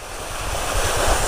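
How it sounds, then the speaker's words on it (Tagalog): A small waterfall in Malico, San Nicolas, Pangasinan pours in a loud, continuous broadband rush, close and alone, with gusty low rumbling like wind on the microphone. "Maliit na falls."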